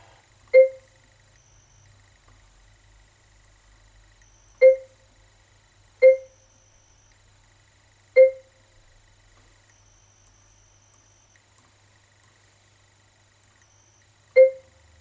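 A Pioneer AVIC-F30BT in-car navigation unit sounds short electronic beeps as numbers are pressed on its keypad. Five isolated tones land at uneven intervals against near silence, with no voices.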